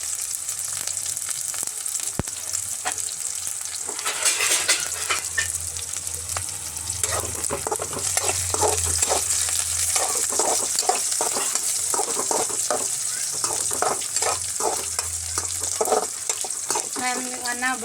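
Onion and chillies fry in a pan with a loud steady sizzle, while repeated scraping stirs and clinks of a spoon come in bursts midway through.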